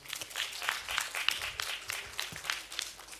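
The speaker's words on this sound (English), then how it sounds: "Can we have a round of applause for our speaker," A small audience at an industry workshop claps in a brief, quiet round of applause for a speaker, with scattered, uneven handclaps and no voices.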